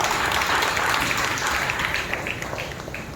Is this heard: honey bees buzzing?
no